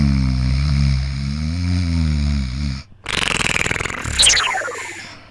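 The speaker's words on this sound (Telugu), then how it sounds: "కురక పెడుతున్నావా లేదా లూజ్ మోషన్సా?" A man snores loudly and deliberately into a phone call as a prank: a rough, droning snore for a few seconds, then a sharp break into scraping, sputtering noises with a falling whistle-like sweep, all with a phone-line sound.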